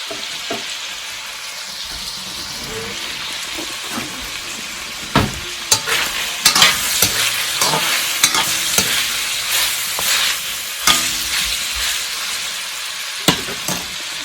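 Meat and pork fat sizzle steadily in a pan for Ilokano-style dinuguan, a continuous bright crackle broken by the scrape and clack of stirring, close and fairly loud with no talking.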